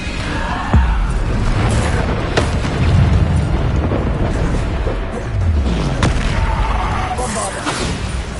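Bombarda explosion spells go off in the video game Hogwarts Legacy as a steady run of loud, rumbling blasts and booms with crackling bursts, while a voice shouts over the din.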